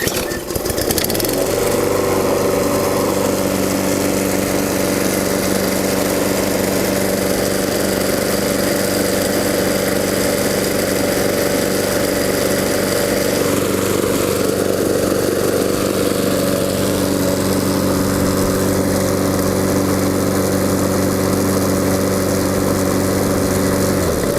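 A GTM LM48-SP-V self-propelled petrol lawn mower runs steadily and loudly up close, its engine drone holding constant throughout with a slight shift in tone partway through.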